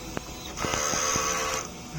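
A DTF printer running a head clean produces faint mechanical clicks and a soft motor whir close by, with a short buzzing stretch in the middle and no speech.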